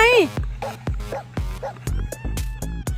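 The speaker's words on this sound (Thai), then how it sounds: "เห่ากระเป๋าเดินทาง" A dog barks repeatedly at a suitcase, close and loud, with a high whimpering yip at the start followed by a quick run of sharp barks.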